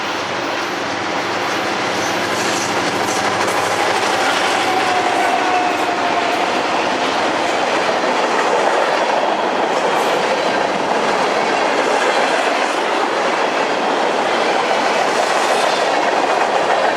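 An eastbound train rumbles steadily past Great River Station on Long Island for a long stretch, wheels clattering on the rails with a faint squeal, loud and continuous with no talking.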